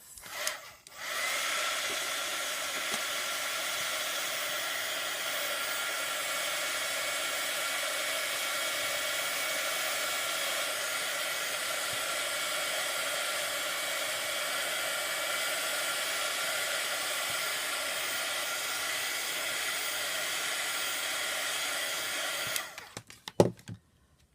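A hair dryer blows steadily to dry paint on a napkin-textured surface for a cracked paint effect, a loud continuous whoosh running nearly unbroken for over twenty seconds before switching off.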